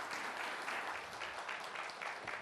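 An audience at a conference on India–Japan relations claps in a steady round of applause for the foreign minister, moderately loud and continuous with no talk.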